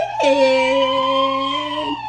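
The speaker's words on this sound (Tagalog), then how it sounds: "Pindot malakas yung fire truck." A toy fire truck siren gives a loud, close electronic wail that holds a steady, slightly wavering tone for about two seconds without pause.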